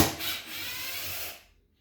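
Wood screw being backed out of wood with a tool, a short close grinding rub and ratcheting scrape lasting about a second and a half, then quiet.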